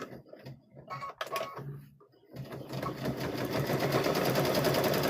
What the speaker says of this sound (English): so we're going to sew, I'm going to back stitch there